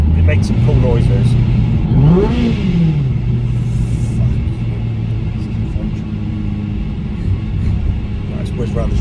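A supercharged Honda Civic FN2 engine pulls in 3rd gear through a roundabout, a steady loud drone and rumble from inside the cabin that rises in pitch around two seconds in, then settles and holds, with someone talking over it.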